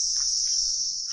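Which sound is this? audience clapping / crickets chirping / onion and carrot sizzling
crickets chirping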